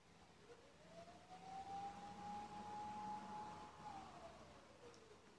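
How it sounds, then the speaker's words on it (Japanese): An ambulance siren wails in the distance, a single long rising and falling tone that swells and fades over several seconds, faint and heard alone with no talk. "救急車鳴ってる。"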